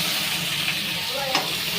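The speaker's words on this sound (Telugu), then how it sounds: "ఇలా ఫ్రై చేసుకొని ఇందులోనే ఫస్ట్గా ఉడకబెట్టి పెట్టుకున్న పాస్తా వేసుకోవాలి." Boiled pasta stir-fried in a hot pan for quick egg pasta, a loud steady sizzle with stirring scrapes running throughout, no voices.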